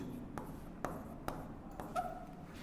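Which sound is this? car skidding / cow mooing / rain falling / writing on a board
writing on a board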